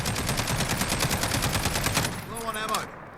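Rapid automatic gunfire from an MK 17 CQC rifle in Call of Duty Modern Warfare, a dense unbroken burst of shots for about two seconds, then firing stops and a brief game voice line follows.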